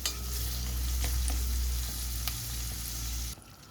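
Garlic and cabbage stirred in a frying pan, a steady broadband sizzle with a low hum underneath and occasional scrapes of the utensil, close and continuous until it cuts off near the end.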